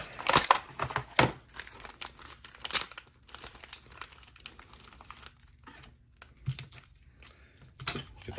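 Sticky tape being peeled off plastic toy packaging for an articulated ninja figure, heard as a few sharp, close crinkling and tearing bursts separated by quieter rustling.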